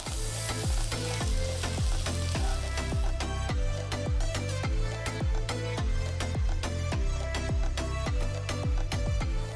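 Garlic, onion, ginger and spring onion stir-fry in hot oil, giving a loud, steady sizzle. A spatula scrapes and clacks against the pan again and again in a fairly regular rhythm, and no one speaks.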